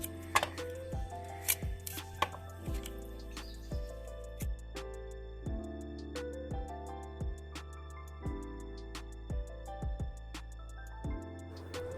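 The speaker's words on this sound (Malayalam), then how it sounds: "നമുക്കിങ്ങനെ ചെറുതായിട്ട് കനം കുറച്ച് അരിഞ്ഞെടുക്കാം." A knife chops spinach stems thinly on a cutting board, with crisp, closely spaced taps in short bursts broken by brief pauses. The chopping is near and fairly quiet, with no one talking.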